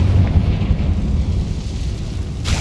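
A Confringo blast spell explodes in Hogwarts Legacy, giving a loud, sustained broadband rumble that roars steadily throughout, with a brighter burst of noise flaring right at the end.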